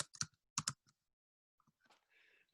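Keys tapped on a computer keyboard while entering a month name into an Excel spreadsheet: two quick bursts of clicks near the start, then scattered lighter taps and soft rustling, close and fairly quiet.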